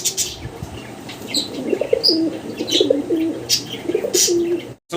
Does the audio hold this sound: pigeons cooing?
yes